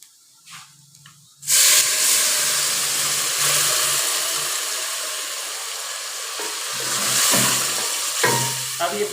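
Boiled minced meat keema with chilli, salt and turmeric hits a hot pan with a sudden loud hissing sizzle that keeps frying steadily, with stirring knocks and faint voice near the start and end.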